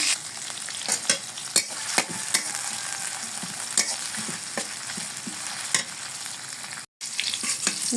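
Green chillies sizzle in hot oil in a wok, a steady crackling fry with sharp spatters and stirring scrapes recurring throughout, close and continuous with one brief drop-out near the end.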